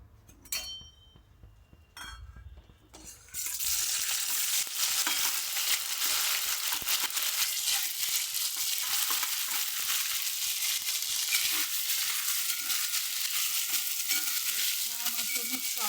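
Ground spinach masala for butter palak paneer hits hot oil and sizzles loudly and steadily after a few quiet seconds of handling and clinks, a dense continuous fry that carries on to the end.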